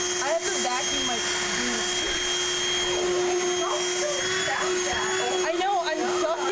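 A household vacuum cleaner runs steadily throughout with a constant whine and airflow roar, and people talk over it at intervals.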